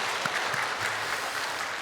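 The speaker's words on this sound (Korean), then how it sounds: "하나님 앞에 영광의 박수 올리겠습니다" A church congregation applauds during a Korean worship service, a dense, steady roar of many hands clapping that holds evenly through the moment.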